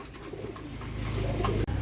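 A pigeon coos softly a few times up close, low throaty notes over faint background noise.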